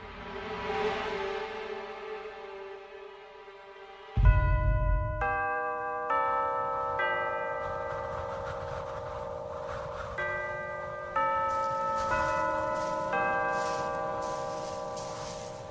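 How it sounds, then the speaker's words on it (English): A series of bells rings out in layered, sustained tones, each new strike joining the lingering hum of the last, with a deep thud near the start. "That was the bells, sir. 1 minute to sunset."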